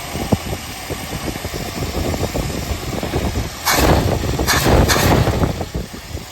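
A Mercury Zephyr's engine idles with a steady rumble throughout, with a louder surge of broadband noise partway through before settling back to the idle.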